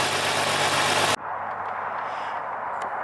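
A vehicle engine idles steadily during a fuel pressure test, a steady mid-level hum following a louder burst of broadband noise in the first second.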